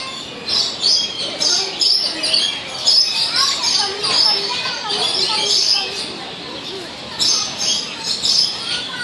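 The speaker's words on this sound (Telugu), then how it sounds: "అక్కడ బిగ్ బర్డ్స్" Birds chirp and call repeatedly at a zoo, fairly close, over a steady outdoor hum, with faint voices and commotion mixed in.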